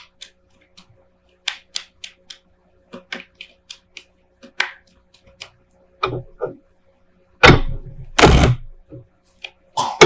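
Soft, irregular papery flicks and taps of tarot cards being shuffled by hand, with a couple of louder riffling bursts near the end; close and quiet otherwise.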